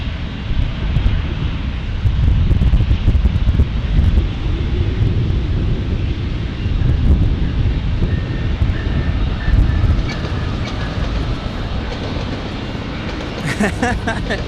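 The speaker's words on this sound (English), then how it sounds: "we're gonna slam it down and we're gonna reverse thrust as hard as I can" An airliner landing hard at San Diego airport and roaring into reverse thrust, a loud, sustained broadband jet rumble that swells and holds for several seconds before easing, heard close and without talk.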